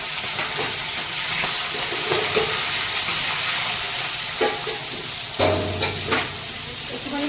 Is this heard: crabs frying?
yes